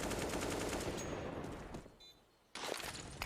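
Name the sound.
gunfire in the video game CS:GO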